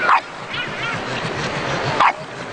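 Dogs at a dog show, two sharp barks at the start and end over a steady murmur of crowd noise.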